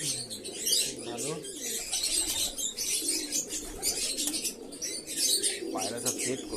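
Pigeons coo in soft, low repeating murmurs close by at feeding time, mixed with wing flaps and scattered higher chirps, while a person talks quietly in the background.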